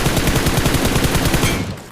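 Rapid automatic gunfire from a BGMI battle royale match, with loud close bursts of evenly spaced shots rattling almost without pause before trailing off at the end.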